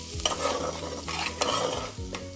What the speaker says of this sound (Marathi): बारीक चिरलेली ती तोंडली ॲड करते आहे त्यानंतर मी ते ॲड करणार आहे बटाटा भाज्या तुम्ही तुमच्या आवडीप्रमाणे घालू शकता आता व्यवस्थित परतून घेऊया